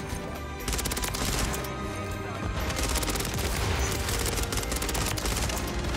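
Sustained ISO 9mm submachine gun fire in Call of Duty: Modern Warfare III, dense rapid bursts rattling almost continuously at close range, with explosions and battle noise layered underneath.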